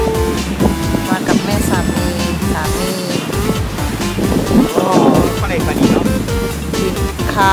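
Sea surf at a crowded Italian beach rushes continuously under heavy wind buffeting on the microphone, with a person talking over the waves.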